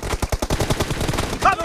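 Rapid automatic gunfire from the video game BGMI (PUBG) in a team deathmatch, a loud, tight burst of repeated shots that runs the whole moment with no pauses.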